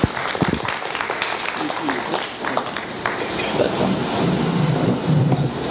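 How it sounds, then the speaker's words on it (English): An audience at a 2011 social media and blogging conference session claps in a dense, steady round of applause, with voices and crowd murmur mixed in throughout. "So a little round of applause"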